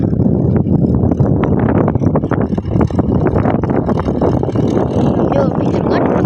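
A tractor rumbles steadily through a muddy farm field after rain, its engine a dense, continuous low drone close to the microphone with wind buffeting throughout.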